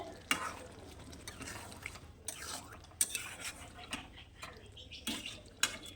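A spoon stirs chicken biryani with halved green chillies in a pot, giving soft scraping, a low sizzle, and sharp metallic clinks against the rim at irregular intervals, fairly quiet and close.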